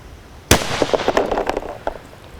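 A Traditions Napoleon III mini cannon fires a ball in one sharp, loud report, followed by about a second and a half of rattling echoes and small pops that fade away.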